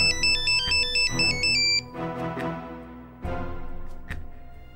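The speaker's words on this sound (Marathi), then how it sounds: "फोन बघ कोणाचा आहे." A phone ringtone chimes a bright repeating electronic melody, loud and close, cutting out and returning in bursts of tonal notes.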